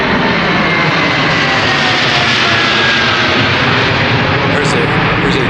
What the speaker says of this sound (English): There's a jet moving up above me.